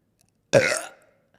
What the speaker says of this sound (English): I'm going to burp.